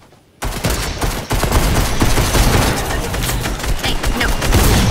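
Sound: gunfire in the video game Fortnite

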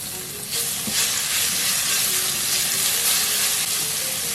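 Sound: chopped garlic stir-frying in hot oil

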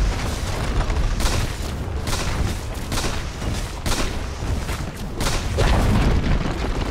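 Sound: tower destroyed explosion in Dota 2 video game

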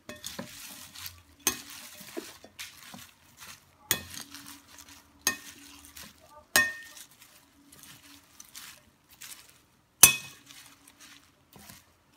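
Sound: stirring salad after adding a little oil

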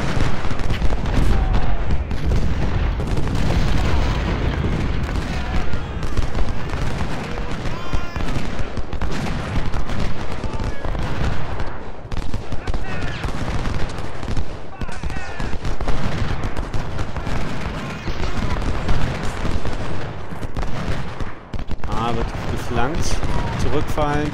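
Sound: gunfire from video game Ultimate General: Civil War

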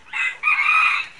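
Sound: rooster crowing

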